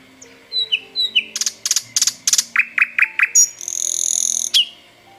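A male common nightingale sings a varied phrase of clear whistles, followed by rapid repeated chirping notes and a buzzing trill, loud and near against a quiet background.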